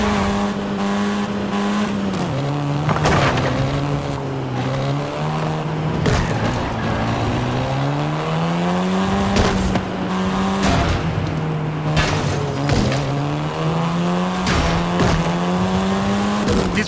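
Volkswagen Golf R, 7th generation, driven hard in Forza Horizon 5: a loud engine note revving up and down through gear changes, with recurring sharp tire squeals and skids, no voices.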